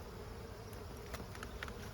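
Steady, dense buzzing from many honey bees, a continuous drone filling the clip at low level with no talk.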